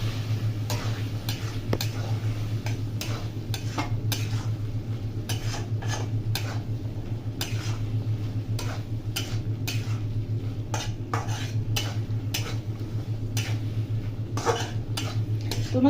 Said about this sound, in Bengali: এবার একে ভালো করে নাড়াচাড়া করে নেবো।